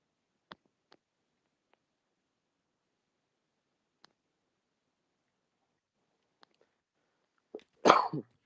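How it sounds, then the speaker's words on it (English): A single short, sharp cough bursts out near the end after long near-silence broken only by a few faint clicks. "It's good to cough."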